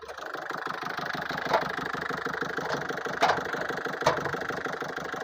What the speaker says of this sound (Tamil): டீசல் இன்ஜின் என்ன சவுண்ட் இருக்குமோ அந்த சவுண்ட் தான் வண்டியில் இருக்குது.